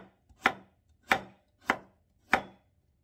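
Four crisp knife chops land at an even pace as a cook slices an ingredient into thin 0.2 cm pieces on a cutting board, each stroke close and distinct with quiet gaps between.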